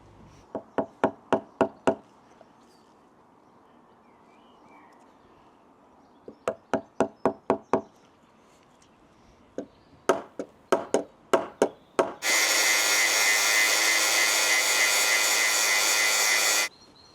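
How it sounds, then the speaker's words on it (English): Hand chisel and multi-tool cutting upward into timber to square a hole for a nut on a large backyard swing build: bursts of sharp, rapid knocks and taps, then a steady, loud buzzing whine of the multi-tool for several seconds at the end. "I'm going to cut upwards with the multi-tool and or the chisel to make it square"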